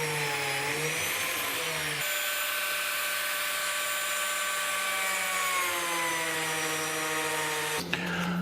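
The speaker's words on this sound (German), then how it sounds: "Und die wird einfach so gemacht, dass wir eine Loch für die Flachdübel, hier eine vom Kopf machen und eine von oben." A biscuit joiner cuts slots for flat wooden biscuits, one into the end grain of a board and one from the top. Its motor whines steadily and loudly for about eight seconds, shifting pitch once before cutting off.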